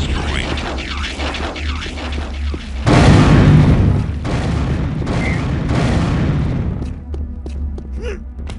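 A loud blast erupts midway through a video game level in Unreal Tournament as an explosive breaches a cave wall, a heavy boom over a rumbling gunfire-filled battle with distant clatter before and after.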